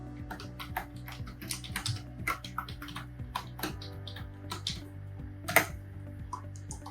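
Someone types login credentials on a computer keyboard, producing an irregular run of light, close key clicks and taps with occasional slightly louder strokes over a low steady hum.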